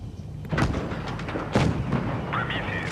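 A tank's main cannon fires in a video game, two loud booming shots about a second apart, each leaving a rumbling tail, with a bright tone rising near the end.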